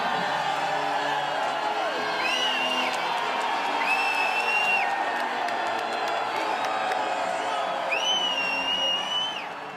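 A crowd at an academy graduation speech cheers loudly and steadily, with sharp whistles and whoops rising over continuous clapping and shouting.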